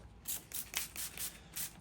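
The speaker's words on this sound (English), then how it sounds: "spray it on, you better see if you're leaking air" Soapy leak-detector liquid is sprayed onto a punctured tyre in short, rhythmic hissing bursts, about five quick pumps of a trigger sprayer, close and fairly quiet.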